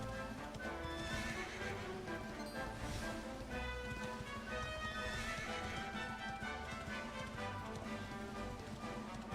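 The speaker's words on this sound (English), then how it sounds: "I really hope it's the same horse that will keep coming when I ring the bell and not just a random horse." A horse in the Dragon Quest XI video game whinnies over a steady patter of hooves, with layered game music filling the background throughout.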